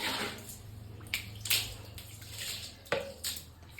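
Soapy water, mixed from liquid soap, is thrown against a bathroom wall in a few separate close splashes over a steady watery wash, with no talking.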